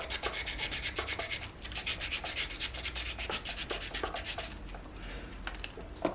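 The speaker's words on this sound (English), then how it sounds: "output socket cleaner upper. Yes, a rolled up bit of sandpaper." Rolled-up sandpaper wiggles inside the output jack socket of an old Westfield E1000 Strat-style electric guitar, giving a steady close scratchy rubbing that runs in quick back-and-forth bursts throughout.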